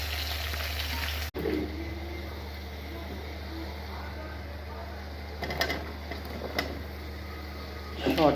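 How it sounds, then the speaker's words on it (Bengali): Moringa drumsticks and potato pieces frying lightly in a pan give a low, steady sizzle that runs throughout, with a brief cut near the start and a few soft clinks toward the end. "হালকা একটু ভেজে নেব।"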